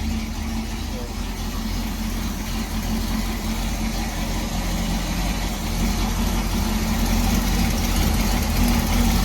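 A car engine idles after a rear main seal replacement, a steady low rumble that holds even and continuous for about nine seconds at close range, with faint background noise.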